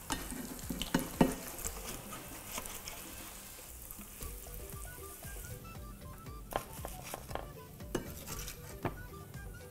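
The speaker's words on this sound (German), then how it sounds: "Die Panade könnt ihr schön auf allen Seiten andrücken und dann ungefähr eine Minute ausbacken." Breaded zucchini balls fry in a pan with a continuous sizzle and crackle. Clattering pan and utensil knocks come through as the breading is pressed on and the balls are turned.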